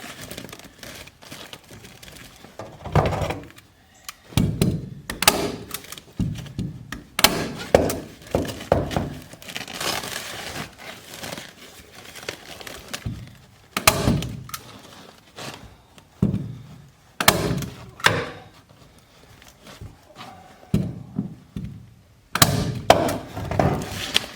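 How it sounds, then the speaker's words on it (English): Staple gun fastening insulation film inside a shipping container, a long series of sharp irregular close thunks and clacks with crinkling plastic and handling noises in between, no talking. "my stapling gun will only reach so far down there"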